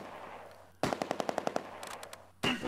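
Machine gun fire from the video game Close Combat: A Bridge Too Far rips out as a rapid burst of about nine sharp shots, followed by a fainter short burst and another loud blast.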